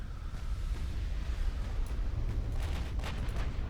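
Secondary guns aboard a warship open fire in the naval video game Ultimate Admiral: Dreadnoughts, a steady low rumble of overlapping booms with scattered sharper cracks, continuous and fairly loud with no talk.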